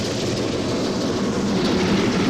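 An East German Class 44 three-cylinder steam freight locomotive passing near Elsterwerda, a loud continuous rolling rumble and rush of wagons close by, with no voices.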